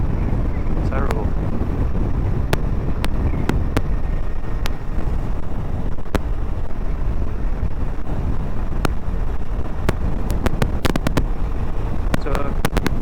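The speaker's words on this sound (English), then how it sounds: "with it being as dusty and cold and windy as it is today" Wind gusts buffet the microphone on a cold, dusty day along a road, giving a steady rough rumble broken by sharp knocks and pops throughout.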